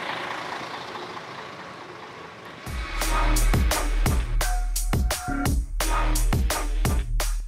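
Cars and trucks idle on a closed street, a low engine rumble that swells suddenly into loud, continuous traffic noise broken by sharp bangs and hissing bursts close by.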